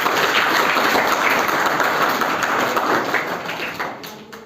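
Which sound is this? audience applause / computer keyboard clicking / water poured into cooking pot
audience applause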